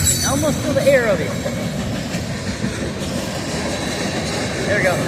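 A passing southbound train fills the evening air with a loud, close rumble and rhythmic clickety-clack of railcars, a few brief wheel squeals rising over the steady roar, with someone speaking over it.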